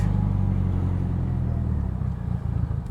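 Engine of a 2015 BMW 228i with a replacement clutch driving in third gear, a steady, loud low rumble heard from inside the car that wavers slightly near the end.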